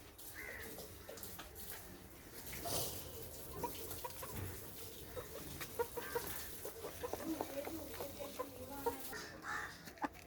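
A domestic hen at home clucks in short, scattered bursts, fairly close, over a quiet household background with faint other sounds.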